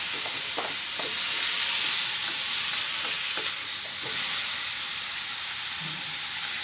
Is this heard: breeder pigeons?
no